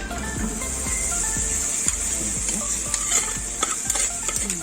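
Chopped onions tipped into a hot pot and stirred at a wild boar festa in Sandinha, Portugal, frying with a steady close sizzle broken by repeated scraping stirs and a few light clinks of a utensil.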